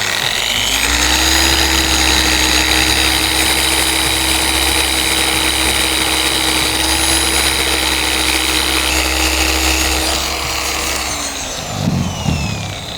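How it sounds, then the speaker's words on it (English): A polishing machine buffs a plastic brake light lens from an SN95 Mustang at a low-to-medium speed setting. It gives a loud, steady whirring drone that holds its pitch for about ten seconds, then winds down with a brief clatter at the end. "I'm gonna go ahead and turn my machine on. I'm gonna buff this at about speed setting 3 or 4."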